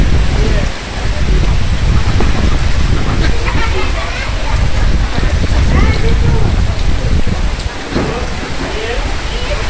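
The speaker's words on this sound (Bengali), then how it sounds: "বৃষ্টি তো হইতেছে" Heavy rain pours down during a storm in a Bangladeshi village, a loud, dense, continuous roar of water on surfaces, with gusting wind underneath.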